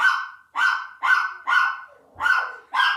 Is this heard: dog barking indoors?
yes